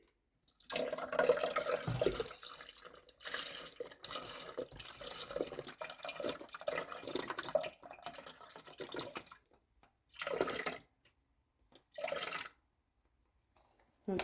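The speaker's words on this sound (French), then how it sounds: "Ensuite, je vais venir rajouter le lait." Milk, 600 ml, pours into crepe batter in a bowl, a steady liquid stream running for several seconds before stopping, followed by a few shorter separate bursts of pouring.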